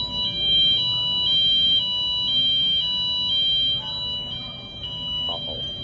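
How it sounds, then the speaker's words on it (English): An alarm rings outside a hotel near Bourbon Street in New Orleans, a steady electronic tone sounding continuously over street noise, with people talking faintly nearby. "there's an alarm going off"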